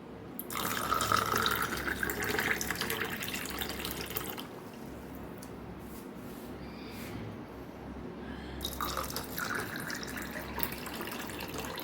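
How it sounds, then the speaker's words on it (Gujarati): Cold water pours and splashes into a glass close by, loud at first, easing off midway, then pouring again toward the end. "અહીંયા આપણે એકદમ ઠંડુ પાણી ઉમેરવાનું છે"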